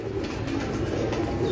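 Breeder pigeons on a rooftop loft coo softly in a low, continuous murmur, several birds overlapping at close range with no other sound.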